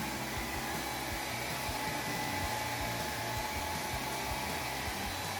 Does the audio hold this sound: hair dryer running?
yes